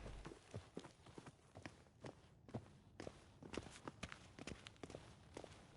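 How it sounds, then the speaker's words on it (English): Footsteps in the video game The Witcher 3, a steady series of soft thuds that stays even and continuous for several seconds, with no talk over it. "Footsteps."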